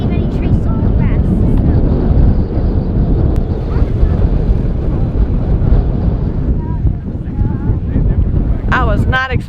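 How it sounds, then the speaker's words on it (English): Gusty wind at Acadia National Park buffets the microphone with a loud, continuous rumble and roar that swells and eases throughout, with no clear voices. "I was not expecting it to be this windy, like gusty windy up here."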